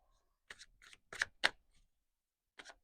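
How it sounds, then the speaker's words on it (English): Tarot cards are shuffled by hand in short quiet bursts, several brisk riffling flicks close by, then a pause and one more. "Okay, a few more shuffles."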